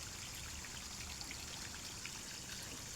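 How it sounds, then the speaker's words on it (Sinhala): Steady rain falls in a forest while water runs and trickles nearby, a dense, even hiss of drops with soft flowing water beneath, continuous for the whole stretch with no voices. "වහිනවා. එහෙලා වතුර හොරි මෙහෙනුත් ගලනවා."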